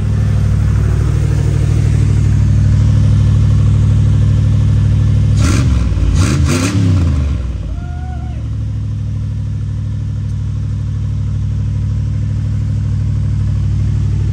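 A 1975 Chevrolet Corvette V8 idling loudly close by, rising into a few sharp revs mid-clip before settling back to a lower, steady idle.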